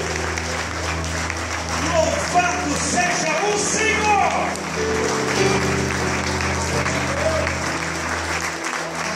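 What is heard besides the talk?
congregation applause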